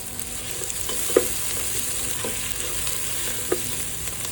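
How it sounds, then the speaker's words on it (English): Sliced onions sautéing lightly in hot oil in a pan, a steady low sizzle running throughout with a couple of soft stirring clinks standing out, no voices. "adding to the oil, hot oil. Just lightly sauteing it and waiting for the onions to turn golden brown"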